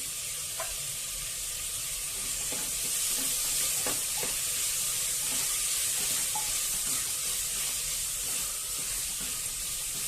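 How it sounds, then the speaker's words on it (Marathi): A ground spice paste with other ingredients fries in a pan for a sprouted chickpea masala, making a soft continuous sizzle with occasional stirring clicks and taps, moderately quiet and close with no talk. "अशा प्रकारे हे सर्व साहित्य असं व्यवस्थित छान परतून घ्यायचंय"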